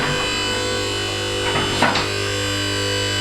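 An electric garage car lift rises with a steady loud motor hum and mechanical whine. A brief clanking burst cuts in partway through, close by and alone without talk.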